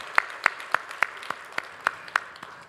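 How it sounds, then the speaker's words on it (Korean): Church congregation clapping during a Korean worship service, a slow, sparse series of about nine evenly spaced claps, soft and somewhat distant, with no talk over them. "우리 박수로 함께 위로하고 격려하도록 하겠습니다."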